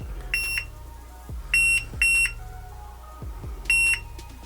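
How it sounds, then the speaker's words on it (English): An Ikea Stenkol device beeps while charging, sounding four short, bright electronic bursts at uneven intervals, each paired with a soft low thump. "What are you beeping?"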